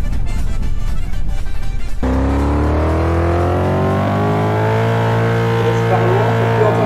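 Cars drive in a Roblox video game: a loud engine roar gives way to a rising, revving whine that climbs steadily in pitch as the vehicle accelerates.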